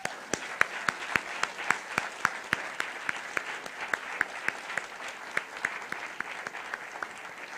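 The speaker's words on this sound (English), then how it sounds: "Once again, another round of applause for all of you." At an awards ceremony, the audience applauds the nominees and award winners. Distinct, sharp claps come in a fairly regular run, moderately distant, with no talk over them.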